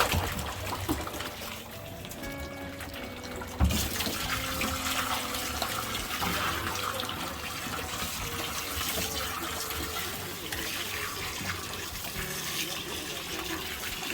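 Fresh water pours steadily into a catfish farm pond, a continuous splashing rush like a tap filling a tub, with a single dull thump partway through.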